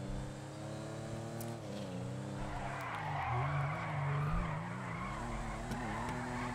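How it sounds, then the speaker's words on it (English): Coquette Classic sports car, modeled on a Corvette Stingray, revving and skidding in GTA 5, with a loud, sustained engine roar and wavering pitch swells over continuous tire squeal. "I swear I love the engine sound on this when you rev it up."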